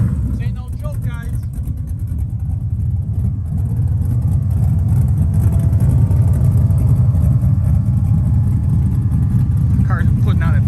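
A 1972 Chevrolet Nova's V8 starts and settles into a loud, rumbling, choppy idle that swells as it revs, close by, with a voice talking over it at the start and end.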